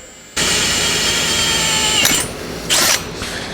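A power drill spins up sharply and whines steadily at close range, with a couple of louder bursts as the bit bites and revs.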